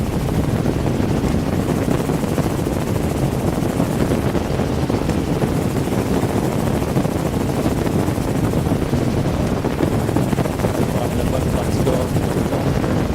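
Helicopter noise drones steadily and loudly throughout, a dense continuous rotor-and-engine roar mixed with wind buffeting from out on open flats, with no pause or break.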